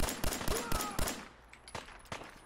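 Automatic gunfire in the Fallout 4 video game during a firefight with bandits: a rapid burst of sharp shots, then fainter scattered shots as the exchange trails off.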